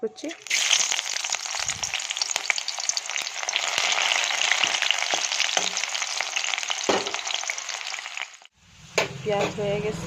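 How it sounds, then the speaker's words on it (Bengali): Chopped onion dropped into hot oil in a wok for a chickpea curry, giving a loud, steady sizzle and crackle for about eight seconds before a short break, then the frying resumes under a few spoken words. "কড়াইতে আমি তেল দিয়ে দিছি, তেল গরম হয়ে গেছে। এখানে দিয়ে দেব পেঁয়াজ কুচি"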